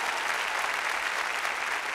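A church congregation claps hands together in a dense, steady burst of applause, close and continuous for a couple of seconds.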